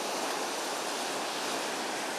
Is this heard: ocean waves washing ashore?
yes